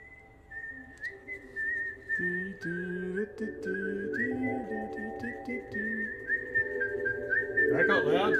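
A melodic whistled tune in a video game carries on steadily, with a low voice murmuring underneath and a brief noisy burst at the end.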